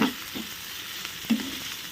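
Green chillies and tomato frying in a pan for a coastal-style crab fry, stirred with a couple of scraping strokes over a soft, steady sizzle, close and without speech.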